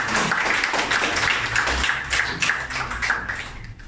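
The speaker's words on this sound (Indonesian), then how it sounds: "Satu tepukan untuk anda." Audience applause at a public speaking workshop, a dense burst of many hands clapping close by, holding steady and then thinning toward the end.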